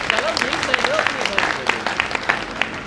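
At a provincial political convention in India, scattered clapping from the audience welcomes a speaker, distinct individual claps rather than a full roar, with a voice talking over them.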